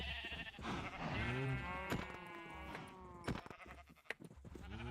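Minecraft sheep bleat repeatedly in the game, wavering cries that overlap in a flock, with quick game clicks and thuds between them.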